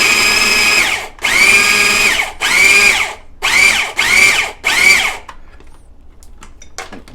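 A food processor pulses hummus in six short loud bursts of whirring motor, each about half a second to a second long with brief gaps, then stops to near silence with faint clicks.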